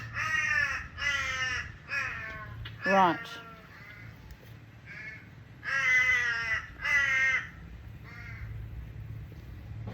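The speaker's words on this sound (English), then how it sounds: "The crows are here." Several crows caw in repeated harsh bursts, a few close and loud, others fainter, over a low steady hum, with a short spoken word among them.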